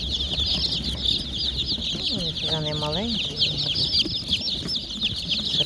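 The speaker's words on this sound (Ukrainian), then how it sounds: "Ось такі курчатка." Chicks cluck and chirp nearby at a market, with a short rooster-like call in the middle; a person speaks briefly over the birds.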